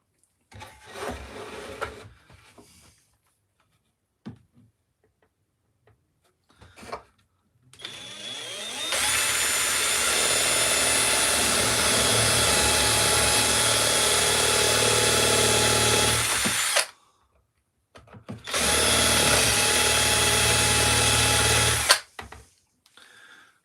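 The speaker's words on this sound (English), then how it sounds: "let's see if we can drill a hole here" A power drill bores a hole in a carved wooden piece, whining loudly in one long burst of several seconds and then a second shorter burst, with quiet handling noises before.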